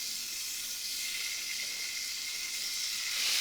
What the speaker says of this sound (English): just until it starts to smoke, and then I'm adding my chicken livers